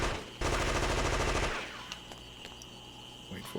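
A loud burst of rapid automatic gunfire in Fear Effect, about a second of fast repeated shots that cuts off, followed by quieter game ambience and a few faint clicks.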